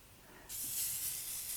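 Hairspray hisses in a steady, close burst onto curled, beachy-waved hair, starting abruptly after a short quiet moment and holding at an even level to the end.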